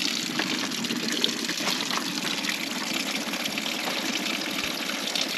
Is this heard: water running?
yes